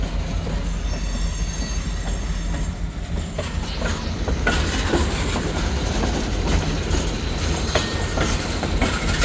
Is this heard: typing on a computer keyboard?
no